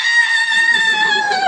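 A person vocally imitates a horror-movie scream, as if fleeing mutant rats: one long, loud, sustained high-pitched shriek that stays steady and holds for over a second near the listener.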